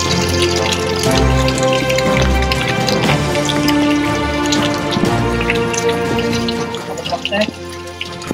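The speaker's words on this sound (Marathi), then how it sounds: "जोरदार पाऊस सुरू आहे" Heavy monsoon rain pours over a mountain trail along a cliff edge near rock-cut caves and waterfalls at Bhaskargad fort, a dense steady patter with scattered drips, close and loud, over some faint tonal background.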